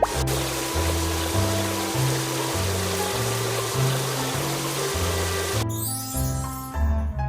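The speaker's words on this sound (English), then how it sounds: "Now rinse off the foam." Steady hiss of a cartoon water sprayer rinsing foam off a bus in a kids' car-wash video game, continuous under upbeat background music before a sparkly jingle near the end.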